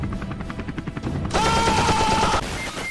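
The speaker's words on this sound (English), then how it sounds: "I'm going to take their helicopter and rush him with the helicopter." Video-game helicopter flown to rush an enemy, its rotor thumping in rapid pulses and then a loud steady whine, mixed with bursts of gunfire close by.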